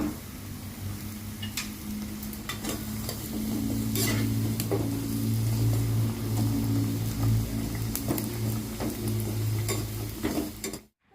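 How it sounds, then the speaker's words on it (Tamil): Sun-dried vadagam fritters frying in hot oil in a home kitchen in Jaffna, a steady close sizzle with occasional stirring clinks against the pan, running continuously before cutting off abruptly. "இப்போ அடுத்த பாருங்க வடகம் பறிக்க போகிறோம்"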